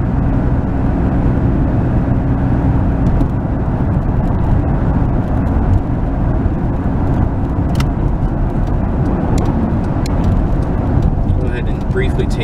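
An easy-driving car cruises along the road, giving a steady, loud engine and road rumble that holds without a break throughout.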